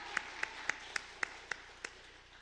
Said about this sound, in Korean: 방송실을 위해서 박수 한번 부탁드립니다.